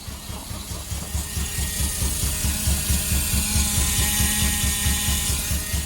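A worn fuel pump on an idling MK1 VW Golf GTI gives off a high, continuous whine over the low, pulsing throb of the engine, steady and fairly loud, with no voices.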